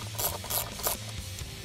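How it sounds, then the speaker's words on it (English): An 8mm socket ratchet clicks through several quick bursts while loosening ignition coil bolts on a 2015-2017 Ford Mustang GT 5.0L, a close, fairly quiet metallic ratcheting with no talk. "Now use an 8mm socket to remove the coil themselves."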